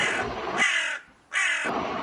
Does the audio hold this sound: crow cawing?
yes